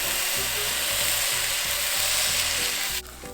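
A thin beef burger patty, pressed flat, sizzles loudly and steadily on a hot griddle, a dense continuous frying hiss close by that drops off abruptly near the end.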